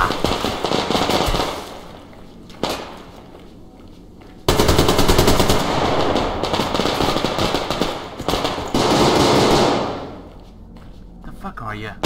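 AK rifle gunfire in the video game Survarium, loud rapid automatic bursts repeating in several long volleys with brief gaps, close and dominant, with a voice speaking at times.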